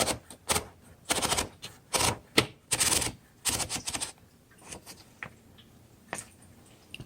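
Paper is fed into a 1936 Corona Silent flat-top typewriter: a run of loud, close ratcheting clatters as the platen is turned, then sparser clicks and a few softer knocks near the end.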